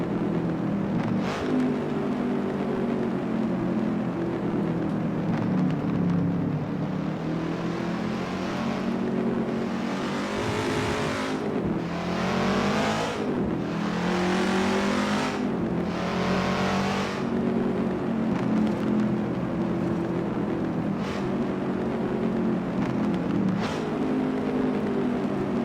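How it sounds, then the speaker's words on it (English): Pagani sports cars accelerate and rev with several rising engine sweeps in the middle, loud and close, over a steady engine drone. "How do you like our new Paganis?"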